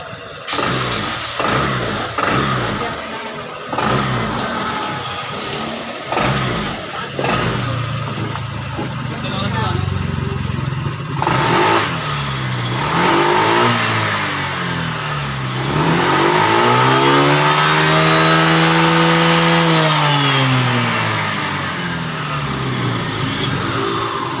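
A Honda ADV 150 scooter engine, just back from an ECU repair, idles and then revs in several rising and falling surges, loud and close, with someone talking over the early part.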